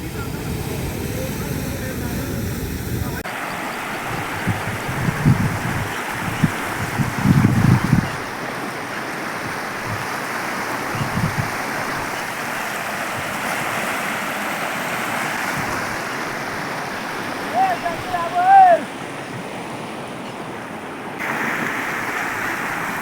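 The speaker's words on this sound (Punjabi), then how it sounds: "ਇਸ ਤਰ੍ਹਾਂ ਪਾਣੀ ਅੱਗੇ ਨੂੰ ਵੱਧ ਰਿਹਾ ਹੈ ਪੂਰੀ ਤੇਜ਼ੀ ਨਾਲ" Floodwater from a breached large canal rushes across submerged maize fields toward a village, a steady broadband roar with gusting wind buffeting the microphone and a few louder bumps throughout.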